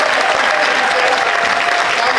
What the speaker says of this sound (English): Let's have a round of applause for Sarah, everybody.